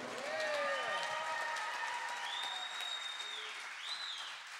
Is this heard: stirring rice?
no